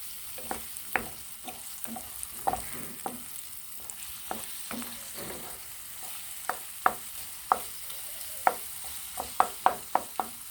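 Eggs frying in a pan for a breakfast dish, a soft continuous sizzle broken by sharp repeated clicks of a utensil scraping and separating them, growing busier toward the end.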